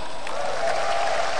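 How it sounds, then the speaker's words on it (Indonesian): A stand-up comedy show crowd in Banda Aceh breaks into steady applause, a dense wash of clapping and crowd noise that holds evenly throughout the short burst. "tepuk tangan"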